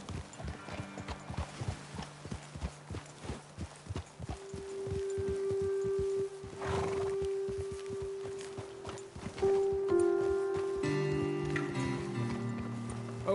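Horses in the video game Red Dead Redemption 2 clip-clop along at a steady walk, hooves close and clear. The hoofbeats fade into a held tonal drone and layered game sounds.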